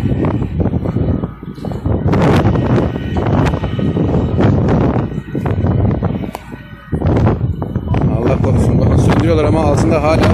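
Gusty wind buffets the microphone at a large wildfire in Akkum neighborhood, Narlıkuyu, Silifke, roaring in loud bursts with brief lulls while someone talks over it.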